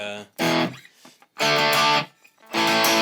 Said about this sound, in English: your regular old rock and roll rhythm guitar